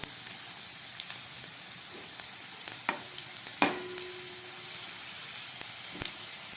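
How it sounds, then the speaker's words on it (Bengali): Bay leaves, white cumin and a dried red chilli tempering in hot oil for a vegetarian banana-flower and chickpea dish crackle with a soft continuous sizzle, broken by a few sharp pops and spatters, close by and without speech. "দিয়ে দিচ্ছি দুটো তেজপাতা ফোড়ন, আর দিয়ে দিচ্ছি একটু সাদা জিরে ফোড়ন, সঙ্গে দিয়ে দিচ্ছি একটা শুকনো লঙ্কা"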